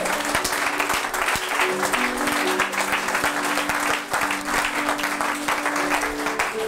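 A church congregation claps loudly and continuously with steady rhythmic applause, a sustained musical tone running underneath, filling the room for the whole stretch.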